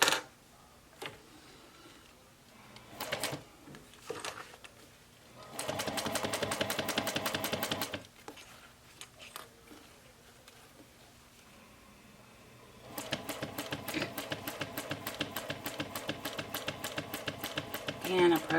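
A sewing machine stitches a leather seam on a Japanese knot bag in two bursts of rapid, even mechanical clatter separated by a quieter pause with light handling sounds.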